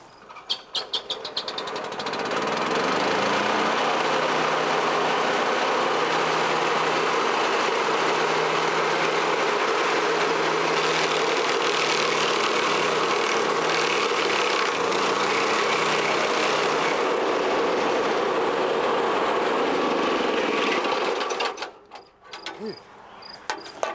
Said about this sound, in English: when you're operating a stump grinder